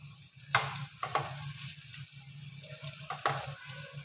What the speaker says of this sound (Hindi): और अब हम इसके अंदर ऑयल डालेंगे ताकि इसके अंदर वाली साइड भी अच्छी तरह से पक जाए।